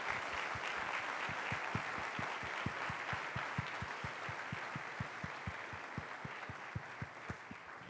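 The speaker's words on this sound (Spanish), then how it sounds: "Dale fuerte ese aplauso." A church congregation claps steadily in time through a night worship service, a dense wash of hands over a regular, evenly spaced low beat that keeps going throughout.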